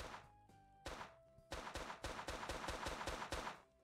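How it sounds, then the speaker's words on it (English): A rapid burst of video game gunfire, several sharp shots then a fast rattling volley, with a faint tone underneath, fairly quiet overall. "That is a lot of gunshots."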